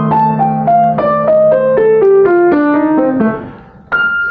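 A piano plays a slow jazz sextuplet run of evenly spaced descending notes, six to a beat, each struck clearly and ringing into the next, ending with a final held chord.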